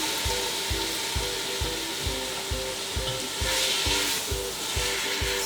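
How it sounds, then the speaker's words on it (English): Chopped canned tomatoes sizzle in a frying pan for tomato soup while a spoon stirs them, with a steady hiss under evenly spaced scraping knocks, close by and without talking. "Stir those around."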